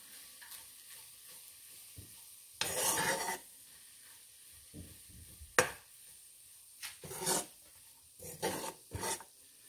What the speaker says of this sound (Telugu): స్టవ్ ఆఫ్ చేసుకుని కలుపుకోండి.